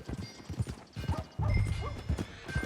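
Steady clip-clop of horse hooves at a walking pace in Red Dead Redemption 2, close and clear, with a brief snort amid background chatter.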